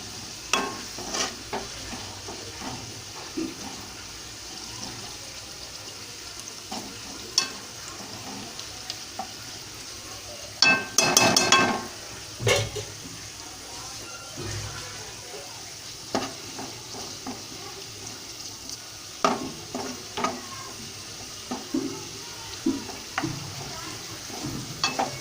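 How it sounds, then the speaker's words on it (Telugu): Cashew nuts frying in a pan, a steady close sizzle with frequent scraping stirs and clacks of a spoon, including a louder burst of stirring partway through. "జీడిపప్పు కూడా వేయించేసుకోవాలండి."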